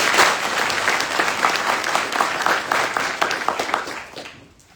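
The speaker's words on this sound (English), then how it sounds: "Please join me in a round of applause for the drill sergeant leader of the cycle." An audience at an army drill sergeant graduation applauds in a dense, steady burst of many hands clapping together, then fades out toward the end.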